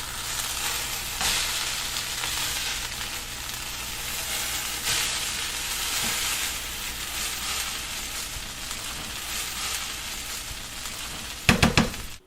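Carrots, okra and drumsticks being stirred in a pot of chicken sambar, a steady sizzle with soft scraping that ends in a few sharp clatters of the spoon against the pot, with no one talking.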